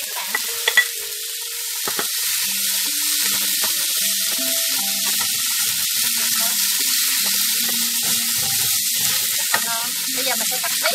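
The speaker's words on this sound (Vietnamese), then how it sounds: "Bây giờ mình chỉ cho tiếp tỏi còn lại và ớt vào luôn các bạn." Garlic and chili stir-fry with okra in a hot pan: a continuous close sizzle with repeated scraping and clinking of a spatula against the pan, irregular and busy throughout, with no talking.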